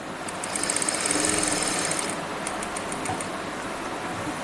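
A sewing machine runs steadily for about two seconds, stitching a pocket onto a women's kurti, with a close, even mechanical whir that then stops. Only low background noise follows, and no one speaks.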